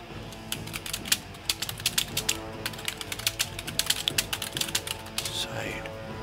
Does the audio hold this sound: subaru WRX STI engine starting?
no